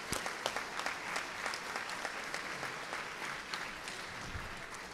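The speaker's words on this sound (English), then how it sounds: "we could give them a round of applause" An audience at a bar association annual meeting claps steadily for several seconds, a dense patter of many hands in a large room.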